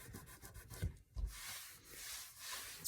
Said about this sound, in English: I'm going to go ahead now and just wipe that with my damp cloth here